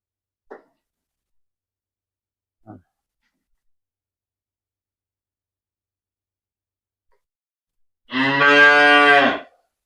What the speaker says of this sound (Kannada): ನೋಡಿ, ಸಣ್ಣ ಕರುಗಳು ಸಹ ಇವೆ